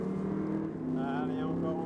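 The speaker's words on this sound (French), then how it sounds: "On commence à accélérer petit à petit." An Audi engine on a racetrack drones steadily from inside the car, its pitch rising slightly as it accelerates, with continuous low harmonics and a faint whine above.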